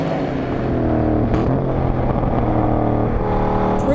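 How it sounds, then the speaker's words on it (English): Chevrolet Camaro on warmed-up 305-size tires accelerating hard and cornering, its engine note steady and loud throughout with a strong continuous drone and no pauses. "We are generating some G-force with the Camaro in all directions. Acceleration, cornering."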